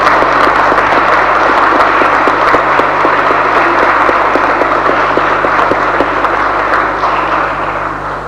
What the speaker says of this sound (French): nous pouvons, je pense, amicalement et fraternellement applaudir